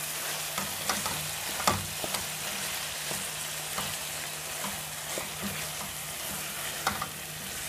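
Tomatoes and tomato paste stirred in a pan, a gentle sizzle with a scattering of sharp utensil scrapes and taps at irregular intervals, close and moderately quiet.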